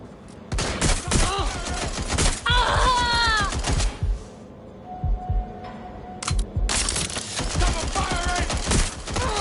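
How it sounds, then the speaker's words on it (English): An enemy target firing a gun in the Watch Dogs Legion video game, loud bursts of rapid shots in clusters with brief lulls between, a faint tone and scattered noises in the gaps. "Target is firing!"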